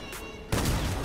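A sniper rifle fires once in Fortnite during an official tournament match, a sudden loud close boom that breaks a quieter moment and rings on briefly.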